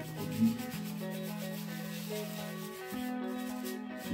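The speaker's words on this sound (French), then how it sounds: "Et on frotte ce produit." Cleaning lotion is rubbed onto the leather cover of a remote control, producing a soft, steady close-up rubbing and scrubbing sound that is quiet and continuous, with a low hum beneath and no talking.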